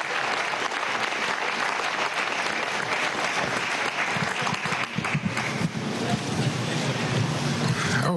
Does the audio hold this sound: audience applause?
yes